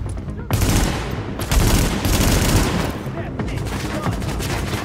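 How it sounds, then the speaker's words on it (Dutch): Gunfire in The Division, dense overlapping bursts of automatic shooting and rapid shots, loud and continuous with brief lulls, close and filling the whole clip. "Hij schiet op mij"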